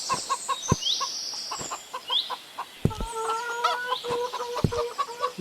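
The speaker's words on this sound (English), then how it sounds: "Hello, chickens." Chickens clucking in a coop at night, several short clucks and chirpy calls overlapping in an irregular rhythm, close by, with occasional thumps and clatter of movement.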